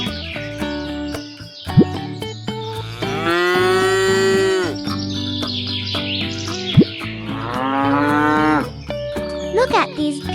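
Cows moo in long, loud, drawn-out calls, two main lows with shorter ones around them, set in a toy farm scene with light chirps in the background.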